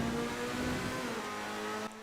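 Car engine revving hard inside a tunnel, a loud sustained drone with steady tonal harmonics and echoing roar, cutting off abruptly near the end.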